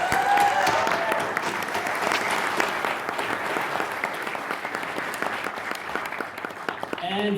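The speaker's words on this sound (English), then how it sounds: "please give them a round of applause too" An audience at a virtual reality conference's opening keynote applauds the exhibitors, with dense, sustained clapping from a large crowd that stays fairly even and starts to thin out near the end.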